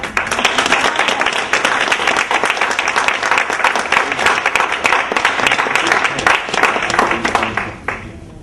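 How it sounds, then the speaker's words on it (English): Sustained, dense applause from a large symposium audience welcoming a keynote speaker, steady and loud throughout, tapering slightly at the very end. "Hand clap."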